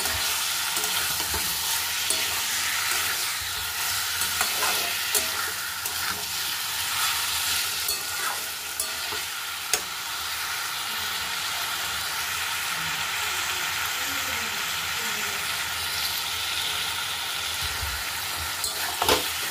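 Spice-coated food being sautéed in a pan, a steady loud sizzle and hiss running throughout with occasional scraping stir sounds, close up and with no talking.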